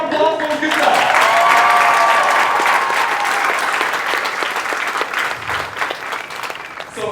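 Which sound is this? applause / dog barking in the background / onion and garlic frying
applause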